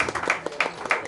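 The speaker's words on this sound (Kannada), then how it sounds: "ಒಂದು ಜೋರದ ಚಪ್ಪಾಳೆ" An audience at a Kannada Rajyotsava memorial event claps loudly, a dense burst of applause with irregular sharp claps standing out, while a voice carries on underneath.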